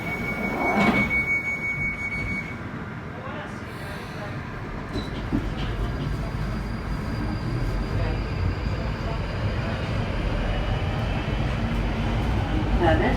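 A London Underground Northern Line train rumbles along the tracks, a loud continuous roar with rattling carriage noise that builds slightly, while a brief high electronic tone sounds near the start.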